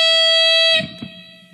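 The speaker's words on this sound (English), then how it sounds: "I'll turn on a bit of distortion for this." An electric guitar played through a distortion effect rings out a loud, buzzy sustained note rich in overtones, then is cut short, leaving faint string noise and a quiet fading residue.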